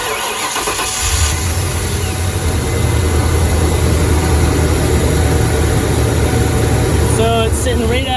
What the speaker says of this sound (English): Let's go ahead and start this thing up.